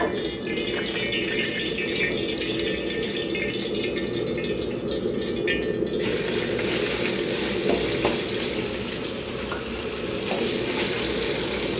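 Chicken fries in a hot oiled pan with a loud, continuous sizzle, joined by occasional stirring rattles and light clatter throughout.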